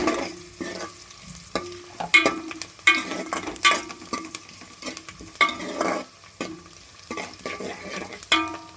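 Ingredients for a stuffed brinjal curry are roasted in a pan, with a spoon stirring and scraping through sizzling food in irregular, close bursts and short gaps in between.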